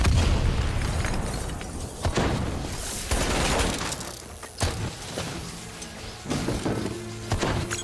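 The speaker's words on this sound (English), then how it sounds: "Robots compromised. Taylor's controlling them. They're about to detonate!" Robots detonating in a Black Ops 3 cutscene, heavy booming blasts and bursts that follow one another over a dense, loud rumble, with several sharp hits near the end.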